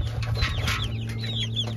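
Chickens cluck softly in a pasture, with scattered short calls over a steady low background hum and no talking.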